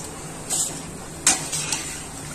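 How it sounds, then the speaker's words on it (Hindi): Poha chivda fries in hot oil in a home kitchen, a soft steady sizzle with a few sharp clinks of a utensil against the pan, fairly quiet and without talk. "ये देखिए इस तरह से हम सारे चिवड़े फ्राई कर लेंगे।"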